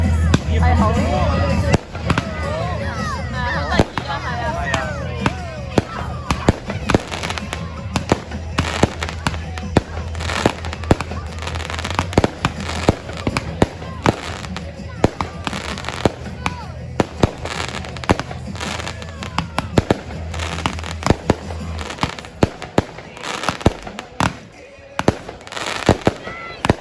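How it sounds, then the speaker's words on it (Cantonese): Bonfire night fireworks burst from across a city seen from a small hill, some close by and others far off, with loud irregular bangs and crackles over a steady low hum. "城市咧係度度都有人放緊煙花。"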